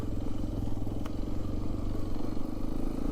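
Hero Xpulse 210 motorcycle exhaust idling nearby, a steady low, throbbing rumble with a fast, even pulse that holds constant throughout, with no talk over it.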